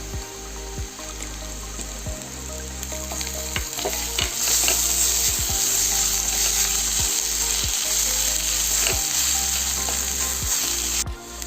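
Ground ginger and garlic paste sizzle and fry steadily in a hot pan during fish cooking, a continuous crackling hiss broken by regular clacking thumps from a utensil striking the pan.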